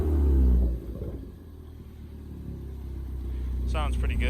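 A Ford Focus ST fitted with a Flowmaster cat-back exhaust gives a deep, rumbling note that dips after a short rev, then idles low and builds gradually again as a voice speaks over it.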